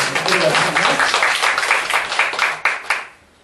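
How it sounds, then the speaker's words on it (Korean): A church congregation at a gospel meeting applauds two volunteers with dense, sustained clapping that stays steady for about three seconds, then breaks into a few final claps and fades out. "두 분 수고하셨어요. 박수 해주시고."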